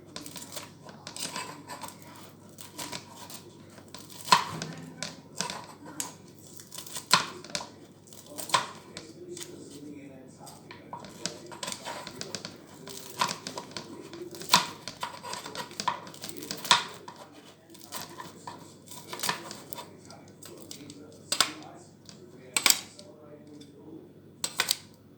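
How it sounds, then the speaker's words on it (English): Food being cut into bite-sized pieces in a home kitchen, heard as a close series of sharp, irregular snipping clicks over a low background hum. "I'll just cut it into bite-sized pieces."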